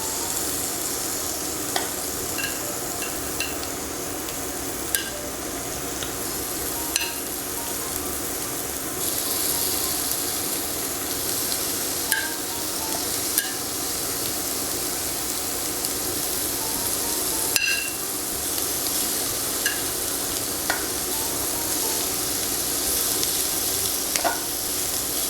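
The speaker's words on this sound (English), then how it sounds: "now that our pan is nice and hot, we're gonna start to throw in our shrimp" Shrimp sizzling in a hot pan on the stove for a steak, shrimp and bacon burrito, a loud, constant crackling hiss close by, dotted with small pops and occasional utensil taps throughout.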